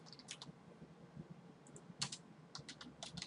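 Quiet, quick typing on a computer keyboard: irregular bursts of light key clicks with short pauses between them, no voices.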